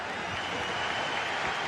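Stadium crowd in a football video game, a dense, steady roar of cheering and applause that fills the space evenly with no clear breaks.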